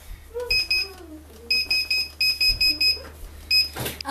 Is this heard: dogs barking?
no